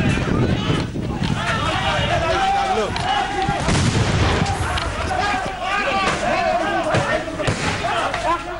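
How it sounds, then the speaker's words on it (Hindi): Bombs go off during a violent clash at a college, a series of sharp blasts and bangs recurring through a loud, chaotic scene with shouting crowd noise and a voice talking over it. "देखते ही देखते बम चलने लगे"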